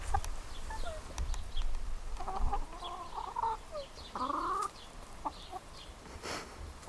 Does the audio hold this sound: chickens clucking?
yes